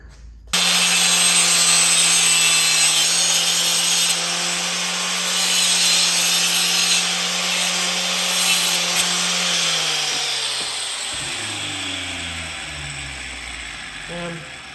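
Cutting off a metal strut from a bike basket on a Stumpjumper, a loud steady mechanical grinding with a constant hum that winds down after about ten seconds into rattling, with no speech.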